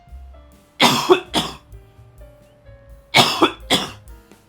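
Two rough, harsh coughing fits close to the microphone, each a pair of raspy bursts, separated by a short quiet pause.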